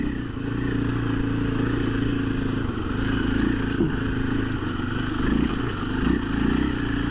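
A 2024 KTM 500 EXC-F dirt bike runs steadily over gravel with a continuous mid-pitched engine drone and loose clattering, loud and close throughout with slight swells in throttle.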